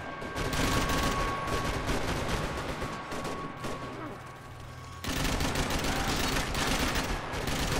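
Dense gunfire in a Max Payne 3 multiplayer match, with continuous loud, overlapping shots and bursts filling the whole stretch, briefly easing before resuming.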